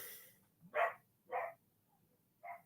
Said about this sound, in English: my dog's kicking off